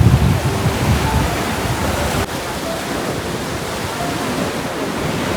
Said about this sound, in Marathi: इथला समुद्र पण असा खूप खवळलेला पण आहे